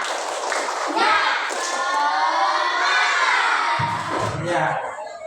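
Schoolchildren in a classroom shout a tepuk semangat spirit clap cheer together, a loud, bright burst of massed young voices that holds for several seconds before dull thumps come in near the end.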